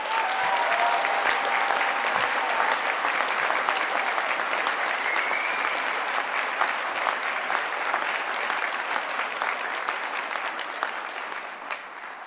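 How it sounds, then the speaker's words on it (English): Sustained applause from a graduation ceremony audience at a University of Stirling winter graduation, a dense, steady wash of many hands clapping for the whole stretch, easing slightly near the end. "please give them a big round of applause."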